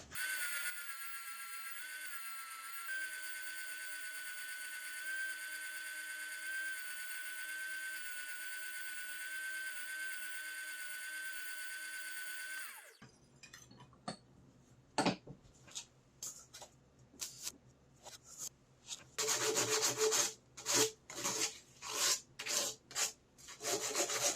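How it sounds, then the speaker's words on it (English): A spindle sander runs with a steady whining motor tone while shaping a wooden handle for a kitchen knife being turned into a dagger, then the motor stops and loud, bursty rasping and rubbing of wood against the abrasive follows. "Off to the spindle sander."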